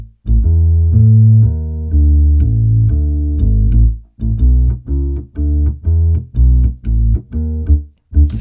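Upright bass from the Easy Bass 2 sample library plays a steady run of plucked notes alone, with sustained low tones that shift into a shorter, choppier rhythm partway through.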